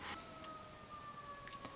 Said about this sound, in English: Good grief, 3 sirens.